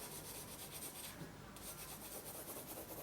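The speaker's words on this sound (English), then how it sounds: "go around like the super sketchy bits with an eraser" Eraser rubbing back and forth over paper while sketching a face, a steady close, soft scratchy friction that continues almost without pause.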